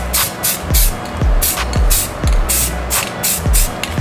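A spray paint can lightly coats a rifle lower in repeated short hissing bursts of about half a second each, loud and close, with a low rumbling background underneath.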